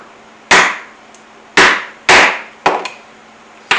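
Rivets are hammered into a handmade stick horse: five sharp metallic blows, close and loud, falling in an uneven rhythm, each one followed by a short ringing decay.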